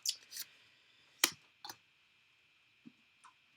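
Scissors snipping paper while cutting out a window shape for a handmade greeting card, a few sharp separate clicks and snips with quiet pauses between them, close by and alone.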